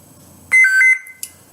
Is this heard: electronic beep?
yes